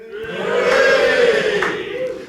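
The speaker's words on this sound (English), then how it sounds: "We're sat in front of a brilliant crowd." A brilliant live crowd at a venue podcast recording for Life After the Rams cheers and roars together, a sustained, swelling wall of voices that peaks midway and stays loud throughout.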